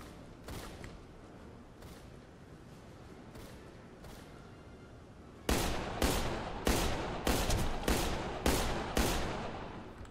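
Rifle gunfire rings out in the video game Deadfall Adventures: a few quieter shots over a background, then a run of about eight loud, evenly spaced shots close by.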